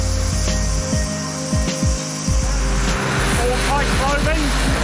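Helicopter engine and rotor sound during a rescue after a lifeguard's boat flipped in massive waves, steady and fairly loud under people talking and shouting.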